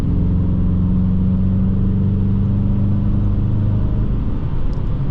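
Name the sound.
Dodge Challenger RT exhaust note while accelerating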